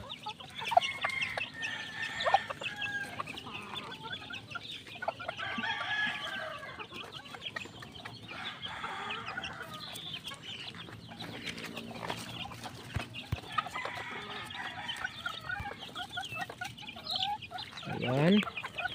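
Chicks and chickens at feeding time on a farm cluck and cheep continuously at low-to-moderate level, with a rooster crowing near the end and scattered peeps throughout.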